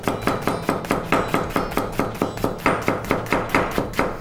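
Steady knife chops on a cutting board while thinly slicing a red onion, about four strokes per second, close and crisp, with no talking.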